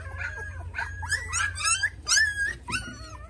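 A puppy whimpers and whines in high, wavering cries that rise and fall in several bursts, close and fairly loud over a low background hum.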